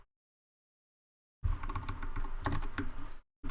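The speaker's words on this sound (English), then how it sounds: "I hope the keyboard isn't making you guys deaf." Fast, steady clatter of typing on a computer keyboard during game development coding, loud and close, starting after a stretch of silence and stopping abruptly near the end, with no talking.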